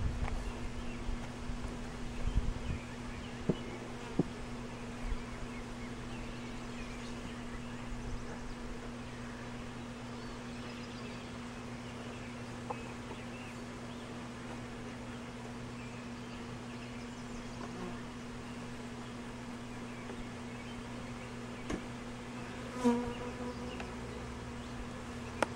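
Honey bees buzz steadily inside a jam-packed hive box, a low continuous drone with faint scattered taps and rustles, fairly quiet and alone.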